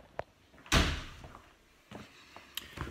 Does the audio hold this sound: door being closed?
yes